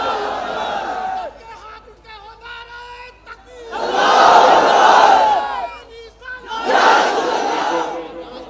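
Crowd at a religious gathering raising loud chanted slogans in two big surges, with a voice speaking over quieter stretches in between.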